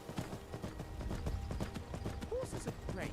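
Steady, rhythmic clip-clop of horse hooves trotting at close range in Skyrim, with a soft vocal sound and faint game effects over the footsteps.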